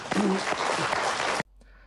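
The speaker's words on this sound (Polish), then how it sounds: "Teraz odrywamy ręce, odrzucamy, jakbyśmy coś strzepywali i klaszczemy." Hands clapping in a dense, loud burst that runs continuously for over a second, then cuts off abruptly into near silence.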